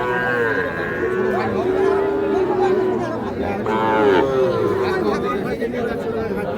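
A Sahiwal bull calf gives several drawn-out moos at the Ambari cattle market in Manikganj. The moos are loud and close, over a continuous background of crowd chatter and voices.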